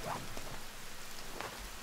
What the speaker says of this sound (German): Es blitzt. Es regnet.